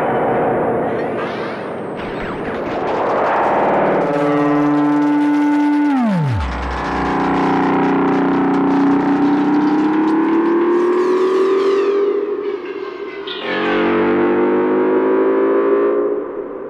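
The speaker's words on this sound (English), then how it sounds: "you can create otherworldly effects by modulating the playback speed of the sample, as well as the delay time and feedback on the delay" Analog bucket-brigade delay from an Erica Synths Black BBD, its delay time and feedback modulated, throwing off swooping pitch-bent repeats, a falling tone and smeared, distorted echo washes that build and shift over a loud, continuous stretch with no voices.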